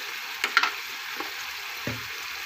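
Chicken for a peppery South Indian uppu kari with green chillies fries in a pan, with a soft, constant sizzle and a few quick stirring scrapes and clicks over a short moment.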